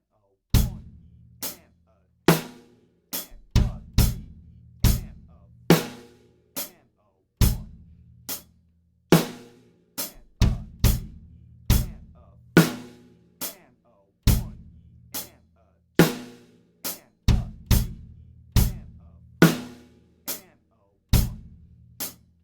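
Beginner drum kit beat with an eighth-note hi-hat pulse and bass drums mostly landing with the hi-hat, played slowly and steadily as a lesson groove; crisp, close, repeated strikes with no voices.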